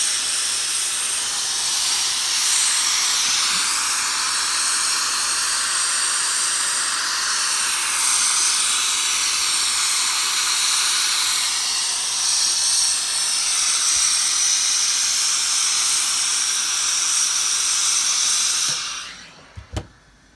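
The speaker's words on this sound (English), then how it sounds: "And it really just needs a little steam." Steady, loud hiss of a steam iron pressing a freshly sewn raglan collar, running continuously for about nineteen seconds before cutting off abruptly with a couple of faint clicks.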